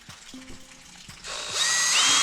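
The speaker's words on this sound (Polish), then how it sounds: "Wiercę tak" A small drill bores a pilot hole for a 2–2.5 cm screw into a window frame, starting partway through as a loud, steady high whine that builds and runs to the end after quieter mechanical clicks.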